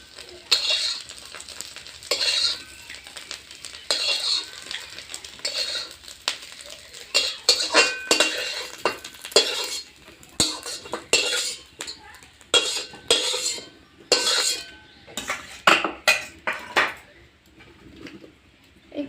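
A metal utensil scrapes and knocks repeatedly against a pan while lifting out fried scrambled egg for an egg bhurji curry, with irregular clattering strokes over a faint sizzle.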